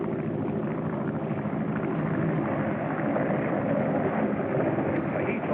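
A propeller airplane drones steadily overhead in an old adventure serial, a constant, loud, muffled engine roar that holds unchanged throughout with no voices.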